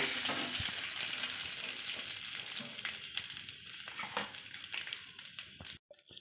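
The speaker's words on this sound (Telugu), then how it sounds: "ఇలా వేయించుకున్న తాలింపుని ముందుగా మిక్స్ చేసి పెట్టుకున్న పచ్చడిలోకి" Hot fried tempering hits tomato and coriander chutney with a loud close sizzle that is stirred through, slowly fading over a few seconds before a brief stop.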